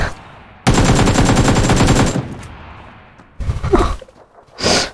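Gunfire in the battle royale game PUBG Lite: a loud rapid burst of automatic fire lasting over a second, followed by a couple of shorter shots later, close and dry.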